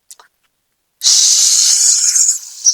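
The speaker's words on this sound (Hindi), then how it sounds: "देखा गैस बनी कुकर में ना निकले लाग सीटी मारे लाग" A loud, steady jet of steam hisses out continuously after a brief quiet start, sharp and close, like pressure escaping from a cooker valve.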